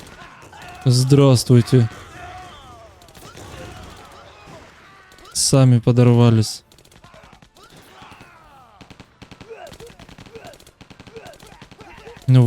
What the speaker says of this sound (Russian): он с этим пулеметом, смотри, как косит